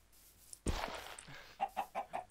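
A video game chicken clucking in a short run of four evenly spaced clucks, preceded by a sudden thud and a rustle, fairly close and without talk.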